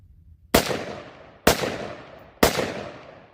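Three sharp rifle shots ring out close by at an outdoor shooting range during a rifle-to-handgun transition drill, each about a second apart with a trailing echo, and no talking.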